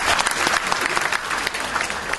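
A church congregation claps together in loud, dense applause throughout, with a few voices mixed in.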